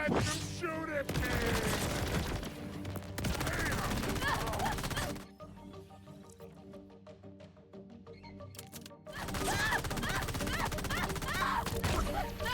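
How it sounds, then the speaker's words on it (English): Enemies fire guns in Borderlands 4, bursts of loud, dense gunfire and impacts filling the scene, broken by a quieter stretch in the middle before the shooting resumes just as intensely. "Stop letting them shoot at me!"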